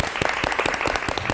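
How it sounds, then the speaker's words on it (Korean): Audience applause at a bank career talk during a financial-sector joint recruitment fair, a steady burst of many hands clapping close and loud for the whole stretch. "박수!"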